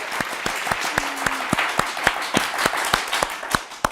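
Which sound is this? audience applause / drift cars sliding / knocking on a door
audience applause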